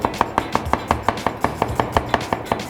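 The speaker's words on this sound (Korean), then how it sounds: "양파를 썰어서 준비하시고" A knife chops half an onion on a board in a quick, even rhythm of about fifteen crisp, close knocks, with no speech over it.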